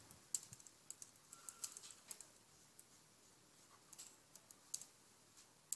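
Rapid, light keystrokes on a computer keyboard while a line of C code is entered, irregular soft clicks close by and fairly quiet, with no voice.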